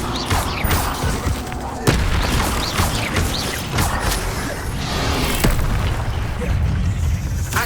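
Spell effects from Hogwarts Legacy, including Incendio, Accio and Levioso, burst out as repeated booms, whooshes and pops in a busy, dense run of casting, loud and close.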